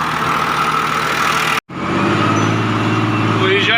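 Steady, loud drone of an MTZ 1221 tractor engine heading out to the field, close by and continuous, broken by one brief dropout before the low rumble resumes.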